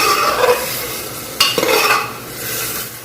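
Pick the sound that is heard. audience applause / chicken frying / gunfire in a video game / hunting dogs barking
chicken frying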